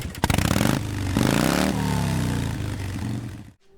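A Triumph motorcycle engine roars up close, revving up and down with a rough clatter, then cuts off abruptly.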